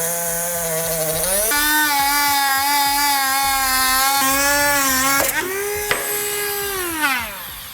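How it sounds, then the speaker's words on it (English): A rotary tool cuts through a section of a 2016 Lincoln MKX bumper with a loud, steady high-pitched whine. The pitch shifts as it bites into the plastic, drops briefly mid-cut, then winds down. "Now I'm going to be using a rotary tool to cut this section out"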